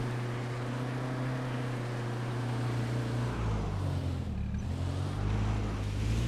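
Engine drone of a car driving in the survival shooter H1Z1, a steady low hum that holds throughout and swells louder in the latter half, with no voices.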